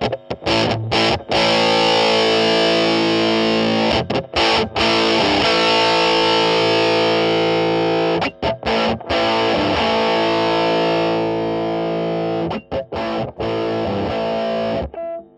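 Guitar driven through a modded RAT distortion pedal as its filter control is swept, giving thick, buzzing sustained chords broken by short choppy stops and restarts, loud and continuous throughout.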